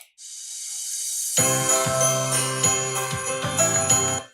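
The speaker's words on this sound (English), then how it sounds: "Let's see jingle bells." Bright jingling bells ring steadily, with chiming tones and a festive melody carrying through, loud and continuous.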